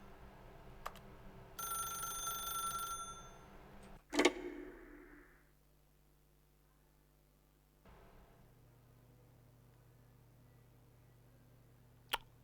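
A telephone rings once in The Stanley Parable video game, a short bright trilling burst of bell tone. A loud clunk follows, then quiet room tone with a faint later click.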